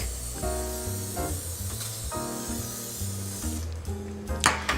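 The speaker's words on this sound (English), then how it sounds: "we're going to spray it with a little bit of nonstick spray so it doesn't stick" Nonstick cooking spray hisses in a few short bursts close up onto a baking sheet, over a low background hum.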